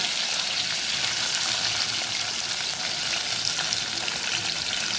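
Green chillies fry in hot oil in a pan while being stirred, giving a steady, dense sizzle that holds close and even for the whole stretch, with no pauses and no voices.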